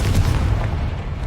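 Confringo blasting spell in the video game Hogwarts Legacy: a brief, loud, booming blast with a heavy low rumble that fades quickly.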